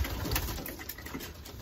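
Racing pigeons coo softly inside their loft, a brief, close, continuous burble of calls with no voices.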